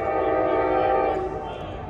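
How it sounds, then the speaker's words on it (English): Amtrak Capital Corridor 741 passenger train led by an F-59PHI locomotive arriving at Oakland Jack London Square station, a loud sustained multi-tone horn chord with rumbling rail noise beneath. "here comes Amtrak's Capital Corridor 741 train"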